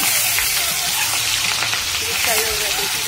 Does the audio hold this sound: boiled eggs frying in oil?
yes